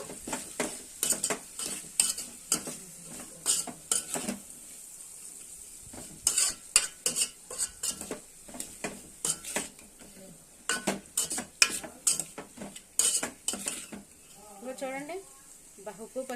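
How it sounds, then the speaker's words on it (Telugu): A curry with salt and turmeric being stirred in a pan, a close run of rapid, rhythmic scraping strokes over a light sizzle, pausing briefly midway, with a voice speaking near the end. "బాగా కలుపుకుంటాను"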